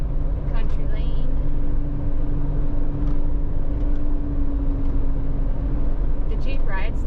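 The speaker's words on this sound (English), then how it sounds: "The noise in the cab is good. There is some tire noise, but we are running 40s on it right now." Steady road rumble and tire roar inside the cab of a 1-ton axle swapped Jeep JK on 40-inch tires, cruising about 50 mph on a country lane, with a low drone throughout and someone talking over it.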